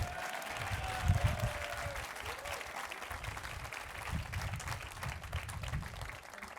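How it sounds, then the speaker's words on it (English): Commencement audience applauds steadily for several seconds, a dense wash of clapping from a large crowd with some voices mixed in, loud and continuous from start to finish. "Yeah, you can clap"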